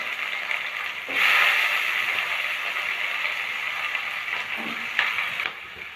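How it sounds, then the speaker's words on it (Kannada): Onions and green chillies sizzle steadily in a hot pan, a continuous bright frying hiss that swells briefly near the start and carries on evenly with small crackles, close and moderately loud, with no talking. "ಈಗ ಈರುಳ್ಳಿ ಫ್ರೈ ಆಗ್ತಾ ಇದೆ"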